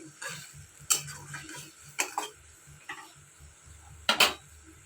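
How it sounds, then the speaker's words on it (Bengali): A utensil stirs pointed gourd cooking in milk in a pan, giving a few sharp metallic scrapes and taps at irregular intervals. A soft simmer sits underneath, fairly quiet overall, with no speech. "দেখো দুধটা দিয়ে ভালো করে কষিয়ে নেব"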